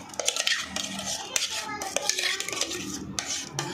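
A spoon stirs a saffron almond kulfi mixture in a metal pot, giving close, repeated scraping and clinking strokes with uneven rhythm and short pauses between them.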